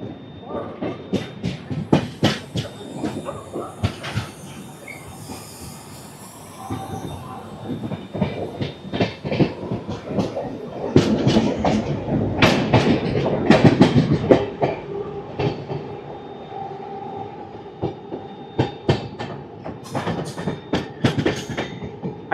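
Toofan Duronto Express 12213 rolling out of Secunderabad, with rhythmic clickety-clack of wheels over rail joints and intermittent wheel squeal over a steady rumble that swells midway, close and fairly loud, with faint voices at times.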